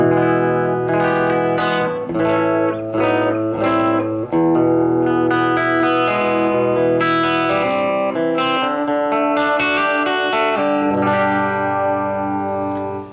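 Electric guitar, a 1976 Goya Gibson 335 copy on a clean setting with reverb, plays chords and melodic lines with a ringing, reverberant tone, sustained notes blending into a spacious wash.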